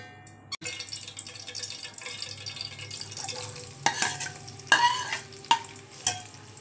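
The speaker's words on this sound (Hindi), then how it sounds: "अब हम इसमें ना प्याज लाल करेंगे" Onions frying in ghee for a korma give a steady close sizzle, with sharper clinks and scrapes of stirring toward the end.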